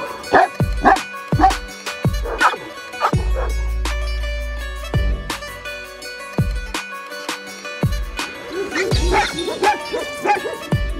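Flock-guarding sheepdogs on a farm bark loudly and close in a string of sharp, irregular barks, with a low rumble and some yips between them.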